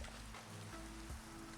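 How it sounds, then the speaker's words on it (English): Steady rain hisses in the video game Minecraft, a soft, even wash of drops with a low hum underneath and a few faint tones. The sound is quiet and constant, with no voices. "Oh man, it's raining, so the fire isn't gonna do anything."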